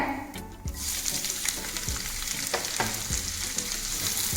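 Onions sizzle and fry in hot oil for fenugreek kuzhambu, a steady loud crackling hiss with occasional stirring clinks, close and continuous with no voice.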